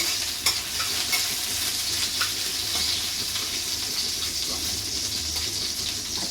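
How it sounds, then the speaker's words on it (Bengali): Jackfruit seeds frying in a pan give a steady, moderately loud sizzle with occasional stirring scrapes, heard alone without talk. "একটু আগে আগে দিলাম কাঁঠালের বিচি ভাজবো"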